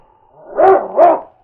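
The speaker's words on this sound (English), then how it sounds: "It's Yukon King, swiftest and strongest lead dog of the Northwest" Yukon King, a husky lead dog, gives two loud, close barks in quick succession, each with a whining, howl-like tone, and nothing else is heard around them.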